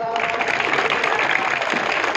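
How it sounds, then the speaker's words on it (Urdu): Applause at a school prize-giving ceremony for a government boys' high school, a short burst of dense, steady clapping from a crowd, fairly loud and close. "بھرپور تالیاں"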